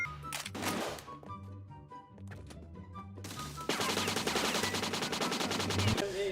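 Rapid M14 rifle fire in the online shooter CrossFire, starting with a few scattered shots and then breaking into a dense, loud automatic burst that runs steadily to the end, with game music underneath.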